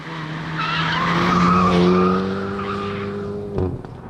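2018 Hyundai i30 N driven hard around a tight, twisty circuit, its engine note rising and falling with tyres squealing through a corner, fairly close.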